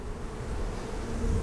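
Honeybees drone in a continuous, close buzz while a strong colony's hive stands open during a swarm-control inspection, a dense, steady hum with no talking.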